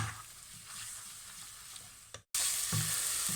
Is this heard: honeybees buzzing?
no